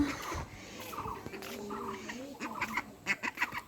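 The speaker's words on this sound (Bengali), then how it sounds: "আমাদের বাড়িতে সব হাঁস চলে আসতেছে মানে এখন একটু বিকাল হয়েছে" A flock of ducks comes home to a village yard in the afternoon, making nasal quacks and clucking calls that grow into quick, closely spaced bursts near the end.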